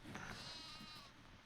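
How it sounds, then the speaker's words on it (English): A sheep bleats in a farming video game, one long wavering call heard alone over a faint background. "Hungry sheep."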